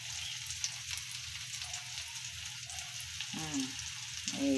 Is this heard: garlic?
yes